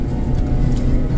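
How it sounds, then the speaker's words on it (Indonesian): A Daihatsu All New Terios climbs a steep mountain road in second gear, its engine droning loud and steady under load. The sound is brief and continuous, with no voices. "Dan di jalan tanjakan yang ini kita masuk gigi 2."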